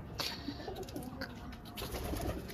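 Pigeons coo softly in a low murmuring chorus, faint and steady against quiet background noise.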